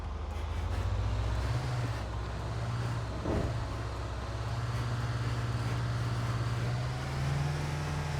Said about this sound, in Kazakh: біз қарсы жолға шығып айдап отырып бұл автобусты.